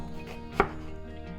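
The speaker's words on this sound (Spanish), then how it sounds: "Ahora voy a partir la cebolla." A single knife chop through an onion being cut into small squares, one crisp close knock on the cutting board amid a quiet kitchen background.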